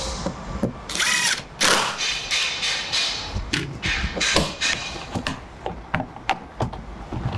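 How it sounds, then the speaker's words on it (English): Power tool driving 10mm bolts into a car's cruise control distance sensor bracket behind the bumper, with repeated whirring bursts and sharp clicks and knocks, close and fairly loud. "You want to get your 10mm bolts on the sides, lock those in."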